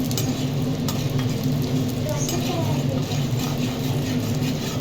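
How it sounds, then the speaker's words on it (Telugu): Spinach and moong dal fry in a generous amount of oil, a steady close sizzle with stirring sounds and a low background hum; a voice talks faintly underneath. "తొందరగా వేగిపోతుంది. చిన్న ఎండుగా వేసుకున్నాము ఫ్రై కదా."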